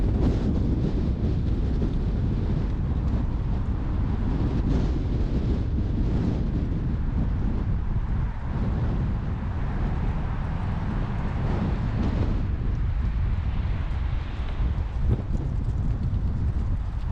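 A car drives slowly through the parking area of a partly abandoned mall wing at Clifton Park Center, heard as a steady, loud rumble of road and wind noise buffeting the microphone with no talk.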